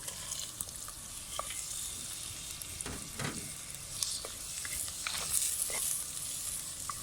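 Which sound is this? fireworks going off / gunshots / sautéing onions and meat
sautéing onions and meat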